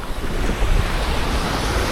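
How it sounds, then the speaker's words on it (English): Ocean surf breaks along the Philippine coast as a loud, continuous wash of waves, mixed with rumbling wind buffeting the microphone. "There's a good bit of waves here too."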